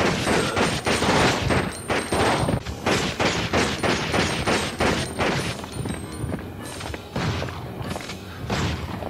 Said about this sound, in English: since the machine gun uses standard handgun bullets, then I'm just gonna go ahead and test it on a zombie